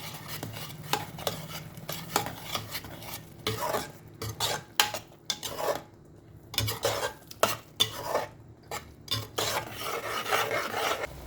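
Spoon stirring okra curry with chili powder in a pan, quiet scraping and rasping strokes in irregular bursts with short pauses, close and alone with no talk.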